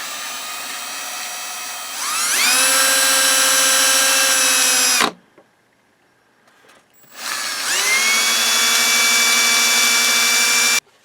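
An electric drill sands an aluminum disc for a Sony STR-230 receiver. The motor spins up to a loud, steady whine, cuts out for about two seconds, then whirs up again at close range.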